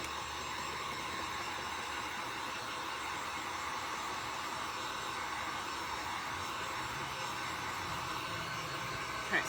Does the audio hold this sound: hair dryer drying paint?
yes